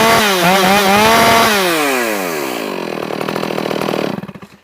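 A freshly ported Stihl MS461 chainsaw with a new piston and ring runs loud and close, revving up and holding a high whining pitch, then dropping back to a rough idle before cutting off.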